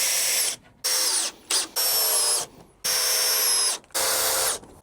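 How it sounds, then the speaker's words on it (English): Power drill driving self-tapping screws into the slats of a camper van bed in a Renault Trafic, four whining bursts of the motor separated by short pauses, loud and close, with no talk. "I'm just driving in some self-tapping screws just to hold them in place."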